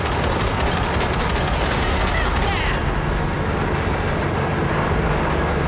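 A train in Cyberpunk 2077 rolls on in a loud, steady rumble with a rattling, clattering texture that eases partway through, while people talk over it.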